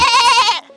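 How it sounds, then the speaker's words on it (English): A loud, close goat bleat from a phone ringtone, a single wavering cry lasting about half a second before cutting off, heard on its own. "That is a goat."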